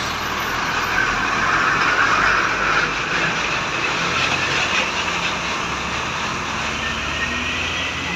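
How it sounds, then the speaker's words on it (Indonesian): An Armada Indah bus rolls past on a road with a loud, steady broadband engine and tire roar that swells slightly early on and holds throughout, with no clear talk over it. "Pertama kita jumpai adalah bus"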